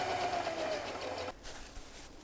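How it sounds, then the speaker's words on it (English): A sewing machine stitches flattened climbing-rope pieces together, a quiet, rapid mechanical whirr for just over a second, followed by softer handling noises. "and then sew the pieces together."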